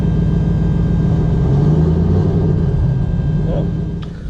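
A street car prepped for drag-and-drive racing idles after being started, with a steady, close low rumble and a faint shift in tone near the end.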